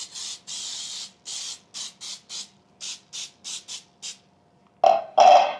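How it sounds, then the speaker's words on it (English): Pam baking release spray hisses from a can into a bundt pan in a series of short bursts, about a dozen quick close sprays, with two louder rougher blasts at the end. "I'm just gonna spray my bundt pan with the Pam bacon release spray."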